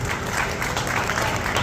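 An audience applauds a lifetime achievement award at a goat industry event. The hands clap in a dense, loud, continuous wash across the short stretch.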